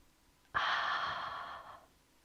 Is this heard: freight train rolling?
no